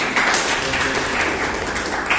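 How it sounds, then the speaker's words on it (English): Steady, dense clapping from an audience at a Toastmasters-style club meeting, continuous and fairly loud for a couple of seconds with no voices standing out. "would say applause for all the people who used it"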